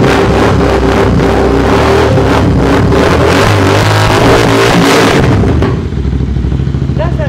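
A loud, close fuel-injected Royal Enfield Continental GT 650 motorcycle engine roars and revs for several seconds, then drops back to a lower rumbling idle.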